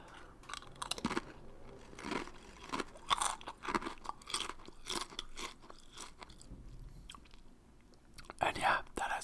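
Soft crunching and chewing of a small, soft fish snack, close and intimate in an ASMR setting, with irregular bites and mouth sounds running under quiet talking throughout.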